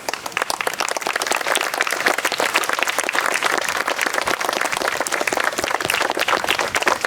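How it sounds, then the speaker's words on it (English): Children in a school assembly hall applaud together in a dense, steady burst of clapping that holds at an even level throughout. "give Mr. Benefield another applause."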